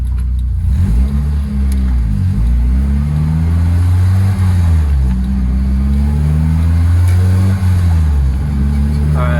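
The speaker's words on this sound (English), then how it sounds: "we're gonna go on a quick test drive and just see if it goes into fifth" A Honda Civic accelerates on a test drive, engine pitch climbing and dropping through several gear changes, loud and close from inside the car.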